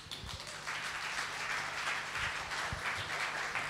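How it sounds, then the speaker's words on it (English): Conference audience applauds, a steady continuous patter of many hands with a few low thumps mixed in. "a round of applause for those"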